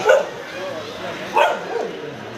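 A dog on a street barks twice, close and sharp, about a second apart, with people's voices alongside.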